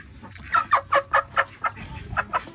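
A sick hen clucks close by in a quick series of short, throaty calls, about a dozen in a row with brief pauses between them.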